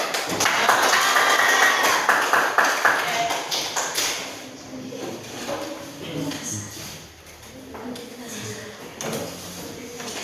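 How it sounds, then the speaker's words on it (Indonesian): Schoolchildren in an Indonesian classroom clap their hands together at a teacher's call, a dense burst of close applause over the first few seconds that thins into scattered claps and classroom chatter, with voices talking throughout. "Tepuk tangan."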